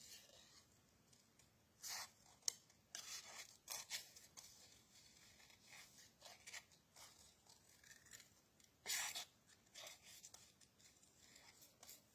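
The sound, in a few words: scissors cutting folded paper card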